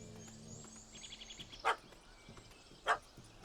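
Dog barking in the Witcher 3 Heart of Stone game world: two short, sharp barks about a second apart, at moderate distance over a faint ambient game backdrop with no talk.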